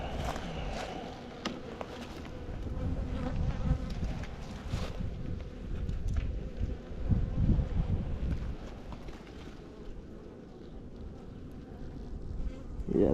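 Honey bees buzz steadily at an open hive in March, a dense, close droning swarm sound with small bumps and rustles from handling the frames, and no talk.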